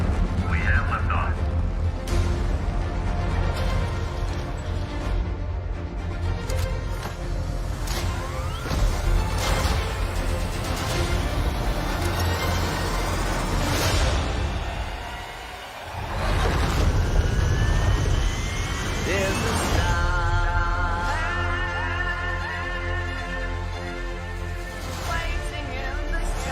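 A rocket lifts off with a loud, sustained roar that swells and rumbles, overlaid with music and a voice, briefly dipping before surging again.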